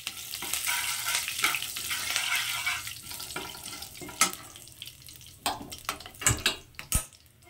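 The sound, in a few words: mustard seeds and curry leaves sizzling with fried dal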